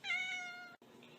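A house cat gives one clear, high meow close by. It stops abruptly and a softer, shorter mew follows.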